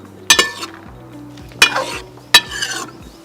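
Mixed vegetables frying for millet biryani, stirred with three sharp metallic scrapes and clinks against the pan over a soft background sizzle, close and with no voices.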